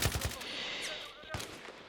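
Rapid automatic gunfire in Battlefield 3 on the Operation Metro map, loud and close, with a burst of sharp shots at the start and another crack later, ringing over a noisy battlefield background.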